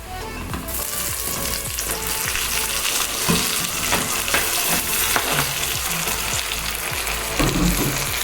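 Tomatoes dropped into a pan of frying onions, loud steady sizzling close up, with stirring scrapes throughout.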